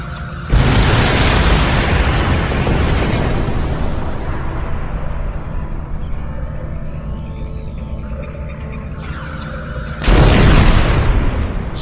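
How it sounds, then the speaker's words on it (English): Colossal explosions in a Star Trek video game as Borg research and technology are destroyed: a loud, sustained roaring blast with rumbling debris that fades, followed by a second sharp burst near the end. "in a series of colossal explosions which should have killed us all, we destroyed all the Borg research and technology"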